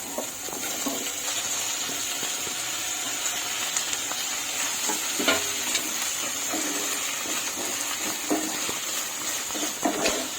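Tomatoes sizzle and fry in a pan for a boondi curry, a continuous close hiss with scattered clinks and stirring sounds, no voices.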